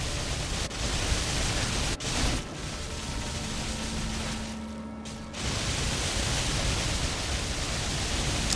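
Steady loud crackling, hissing static from enemies reacting to magic-reactive Renala armor in the Elden Ring video game, a continuous noisy wash with a brief dip midway.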